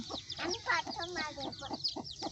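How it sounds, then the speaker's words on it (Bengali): Chickens clucking at a small home poultry farm as the flock returns at dusk, a steady run of close, busy clucks and short calls overlapping throughout. "ওই হচ্ছে আমার মুরগিগুলো সন্ধ্যা হয়েছে এখন সব চলে আসছে"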